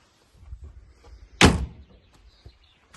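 A 1938 Austin Big Seven Sixlite saloon door shuts with a single sharp, close thunk midway, preceded by faint rustling and handling noises and followed by quiet clicks.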